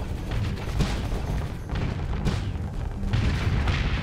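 A Hephaestus gun mounted on a ship fires in Starsector space combat, a steady churn of heavy booming shots and mechanical rumble, dense and loud throughout with no speech.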